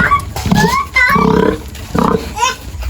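Grunts and squeals from a large pig sound in short bursts, close by, with people talking over and between them.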